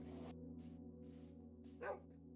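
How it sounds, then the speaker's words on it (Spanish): A wolf in the Minecraft video game gives a few short, faint barks in separate bursts, spaced apart against a quiet, steady hum. "Por aquí abajo escucho un perro."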